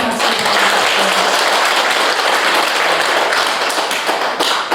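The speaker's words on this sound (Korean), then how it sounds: "오늘 좋은 강의를 해주신 혜원 스님께 다시 한번 큰 박수 부탁드립니다" A Buddhist temple audience giving loud, dense applause after a monk's lecture, steady and close throughout with no break.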